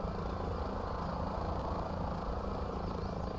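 Helicopter in Microsoft Flight Simulator over Auckland, New Zealand, a continuous loud rotor and engine drone holding steady throughout.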